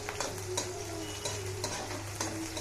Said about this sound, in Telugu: జీలకర్ర మంచిగా వేగినాక ఉల్లిగడ్డలు వేస్తున్నా.